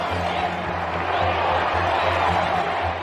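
A vast crowd outside the palace cheers for the royal wedding balcony kiss of Fergie and Prince Andrew, a continuous, even roar of distant voices with no single speaker standing out.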